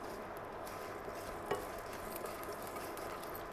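Carom seeds tempering in hot oil for a Navaratri sundal: a soft, quiet sizzle and crackle with a single sharp utensil clink near the middle, and no talking.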